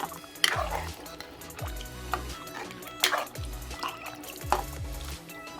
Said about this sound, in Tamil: நான் தண்ணி கொஞ்சம் சேர்த்துக்கிறேன்.